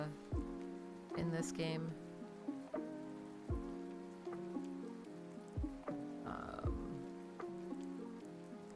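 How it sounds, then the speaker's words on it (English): Steady rain falls in a video game, a soft constant patter with a faint voice speaking briefly over it while a tonal background plays alongside. "I just like having the constant rain noise in the background in"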